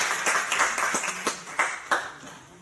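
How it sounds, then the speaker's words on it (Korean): Scattered clapping from a church congregation, a handful of distinct, fairly sharp claps at irregular intervals over a quiet background rather than a full ovation. "제자님께 박수"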